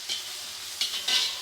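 Green chillies and ginger fry in hot ghee with a steady close sizzle, broken by two brief stirring scrapes in the pan.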